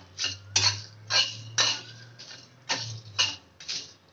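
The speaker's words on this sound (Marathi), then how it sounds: "हे सगळं मी आता हलकेसे टोस्ट करून घेते." Whole spices, green and black cardamom, cinnamon and other pieces, dry-roasting in a kadhai, heard as a steady series of light clinks and scrapes from stirring, spaced close together, with a low hum underneath.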